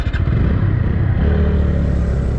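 A TVS Apache BS4 motorcycle is ridden, its engine giving a loud, steady, close-up roar with wind and road rumble throughout.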